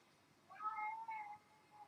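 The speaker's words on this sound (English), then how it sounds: "And of course I start filming and my cat Chadwick arrives" A house cat meows twice in a drawn-out, rising-and-falling call, close and fairly quiet in a still room with no talking.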